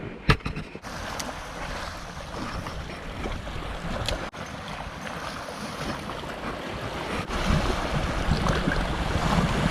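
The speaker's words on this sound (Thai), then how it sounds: "ตรงนี้ลมแรงตียากหน่อย" Strong wind on a seashore during shore squid fishing, a loud continuous rush of wind buffeting the microphone with surf and waves underneath, steady for the whole stretch with a few sharp knocks.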